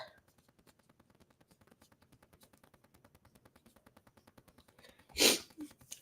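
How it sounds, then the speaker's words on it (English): A single loud sneeze bursts out near the end after a quiet stretch of faint rhythmic ticking, followed by a brief exhale. "I'm trying to keep from sneezing."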